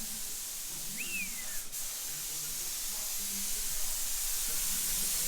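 A steady, airy hiss from a spray gun laying primer onto an R31 car shell in a shed, continuous and fairly even throughout, with a brief squeak partway through.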